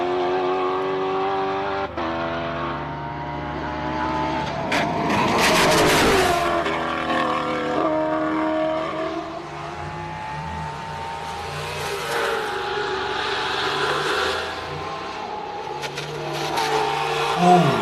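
Race car at the Simola Hillclimb powers up the hill, engine note rising in loud revving pulls with distinct gear shifts and downshifts, near and sustained, with faint commentary voices underneath.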